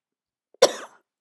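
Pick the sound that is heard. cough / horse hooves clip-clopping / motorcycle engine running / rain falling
cough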